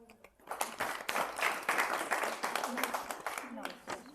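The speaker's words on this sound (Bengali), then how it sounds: "করতালি হোক" Audience applause at an elder-care home New Year celebration, following the announcement of a recited New Year poem: steady, dense clapping from a room of people, sustained throughout at moderate loudness.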